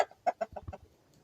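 A rooster, a Coucou de Rennes cross, gives a short run of five or six close clucking calls, fairly loud and near, then goes quiet with only faint background.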